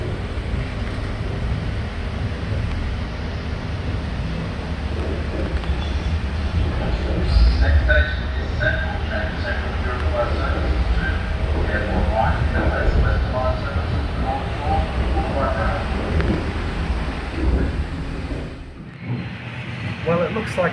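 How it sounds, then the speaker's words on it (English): A Sydney K-set train carriage pulls away from a standstill with a low rumbling clunk and rising rail noise, steady and close inside the carriage, with someone talking over it. "Like any K-set, they always clunk away from a standstill"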